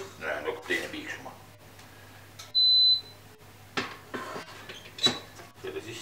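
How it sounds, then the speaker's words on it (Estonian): A multicooker pot gives a single sharp electronic beep mid-clip, with a fainter short beep later, amid kitchen handling noises and a low steady hum, while a person talks. "Okei, selle potti hakkab teine piiksuma."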